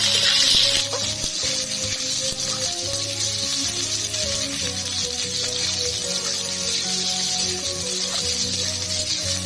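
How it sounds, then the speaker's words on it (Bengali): Whole cumin, cinnamon and cardamom sizzling in hot oil, a loud hissing burst at the start settling into a continuous close crackle and sizzle, with no voices. "ফোড়নে দিয়ে দিচ্ছি গোটা জিরে, দালচিনি, এলাচ"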